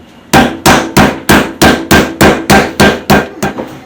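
A meat mallet pounds steak for country fried steak, eleven loud, evenly spaced thuds in a steady rhythm, close up with no talking.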